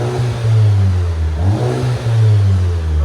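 Turbocharged 2017 VW Golf GTI fitted with a twister muffler revs steadily and loudly up close, its low exhaust drone rising and falling through a couple of throttle blips with no talking.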